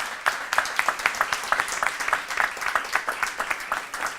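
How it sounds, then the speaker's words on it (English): An audience at a debate in a coffee shop applauds steadily, dense clapping with sharper individual claps popping out in a quick irregular rhythm, moderately loud throughout. "A round of applause for Third Space Coffee Shop for providing the space."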